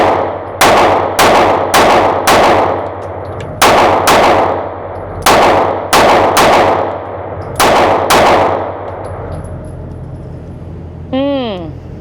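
Shots from a Kimber CDS9 9mm pistol at a range, a dozen loud sharp cracks in uneven groups with short gaps between, followed by a ringing ping from a struck steel target near the end.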